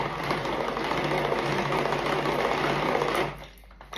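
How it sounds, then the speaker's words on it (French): An electric mixer whisks eggs and sugar for an apple fondant cake batter, a loud steady motor whir that runs for about three seconds and then suddenly cuts off. "Et on va fouetter."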